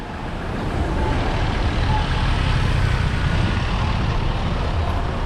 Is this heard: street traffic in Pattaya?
yes